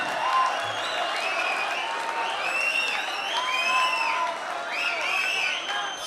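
Audience at a Shab-e-Sukhan Urdu poetry recital whistling and applauding, with clear sliding whistles repeating over a steady, continuous bed of clapping and crowd noise.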